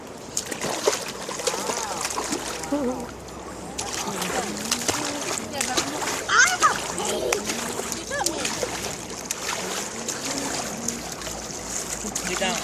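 A young child splashes in outdoor water with irregular sloshes and trickles at close range, mixed with a steady watery hiss while adults talk and coax nearby.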